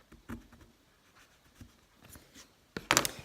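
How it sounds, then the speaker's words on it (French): Paper being creased with a bone folder while a storage box is made, soft rubbing and scraping strokes, faint and close, ending in a louder burst of sliding and rustling, with no speech. "Donc j'appuie bien avec le plioir."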